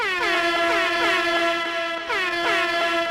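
A loud, blaring air horn sounds in repeated bursts, each blast bending in pitch, harsh and continuous with no voices.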